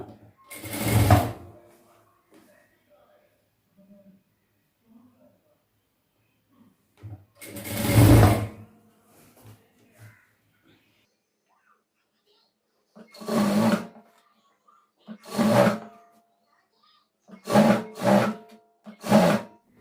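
A sewing machine stitching the round neck of a blouse, running in several short separate bursts of whirring with quiet pauses between, the last few bursts coming quickly one after another.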